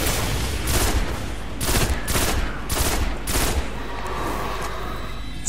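Combat in the video game Destiny around a thrown grenade, with a run of loud, evenly spaced bursts of gunfire or blasts, close and dominant with no talk over them.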